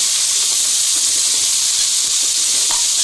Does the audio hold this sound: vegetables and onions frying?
yes